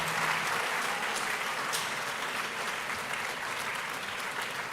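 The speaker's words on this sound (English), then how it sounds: "Ladies and gentlemen, a louder round of applause for our speaker" An audience at a memorial lecture gives the speaker a sustained round of applause, dense and steady throughout, filling the room evenly without pause.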